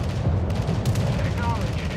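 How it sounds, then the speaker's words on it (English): Dense naval gunfire from warships in a battle video game, a continuous thunder of shots and booms with a radio-style voice over the barrage. "Concentrate fire on the enemy warship."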